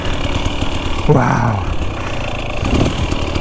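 Motorcycle engine droning steadily while being ridden across slippery sand, a continuous near mechanical hum with a person briefly exclaiming over it.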